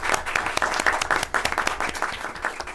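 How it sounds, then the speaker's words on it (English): A round of applause at a school board of education meeting, with brisk individual claps standing out from a modest crowd, fairly close and lively throughout. "Let's give them a round of applause."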